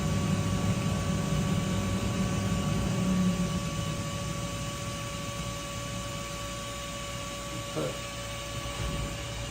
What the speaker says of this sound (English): That air compressor will shut off shortly.